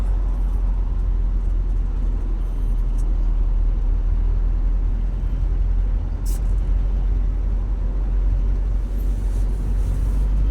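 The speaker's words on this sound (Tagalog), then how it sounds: "Napaka-traffic talaga." Heavy road traffic fills the scene with a continuous low rumble of engines from cars and buses, plus a brief hiss like an air brake, steady and fairly loud with no speech.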